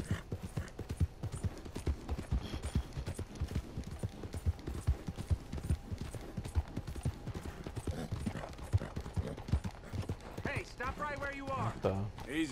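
Steady clip-clop of horse hooves at a brisk pace in the video game Red Dead Redemption 2, with a short voice-like tonal sound near the end.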